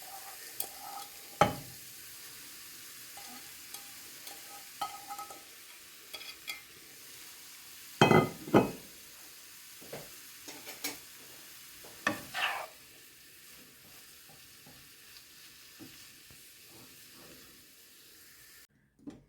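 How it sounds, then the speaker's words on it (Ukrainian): Sauerkraut with carrot, sweet pepper and fried onion frying in a pan, with faint intermittent stirring scrapes and a few louder clatters over a low sizzle, no talking. "І підсмажу її до готовності"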